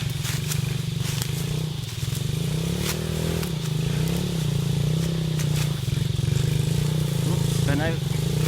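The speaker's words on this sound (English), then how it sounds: "This is the first time so many motorbikes coming up." A steady motorcycle engine drones in the foreground with rattling and clatter as bikes climb a dirt fire trail on a high ridge, voices talking faintly over the continuous rumble.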